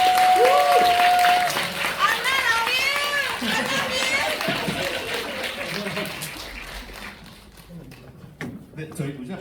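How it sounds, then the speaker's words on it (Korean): A cinema audience at a film talk claps warmly, starting loud and gradually fading. Voices and a tone sound over the start, and chatter and shuffling follow as the clapping dies away. "큰 박수 부탁드릴게요"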